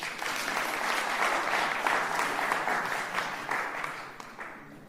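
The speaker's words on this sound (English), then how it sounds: "We can clap for them as they come." Audience at a graduation ceremony in Nairobi applauding as graduates come onto the stage, a sustained dense wash of clapping from a large crowd that slowly fades toward the end.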